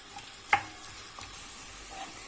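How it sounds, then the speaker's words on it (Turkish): Onions sizzling and frying in plenty of hot oil for Uzbek pilaf, a steady crackle with a sharp clink of a utensil against the pan. "Isınan yağımıza Soğanımızı atıyorum. Kavurmaya başlıyorum."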